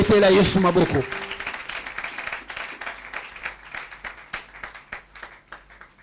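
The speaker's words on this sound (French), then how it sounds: "Acclamez Jésus." A church congregation bursts into applause and cheering, a loud, dense wash of clapping in the first second that thins into scattered, rhythmic claps with voices mixed in.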